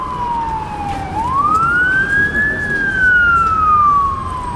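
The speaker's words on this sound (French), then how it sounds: "Notre tournage est interrompu par des sirènes." Police siren sweeping up and down in a loud wail close by, rising and falling alone over traffic noise in a Belgian street setting.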